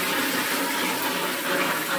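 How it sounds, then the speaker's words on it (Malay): Water gushing steadily from a pump outlet after the pump is primed and started, a loud continuous rushing splash with no talk. "Air keluar dengan sempurna."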